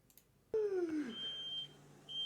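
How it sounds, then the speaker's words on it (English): Kitchen smoke alarm beeping at a distance, a piercing electronic tone with a falling sweep after quiet background, then sustained higher beeps. "Is she hit the smoke alarm?"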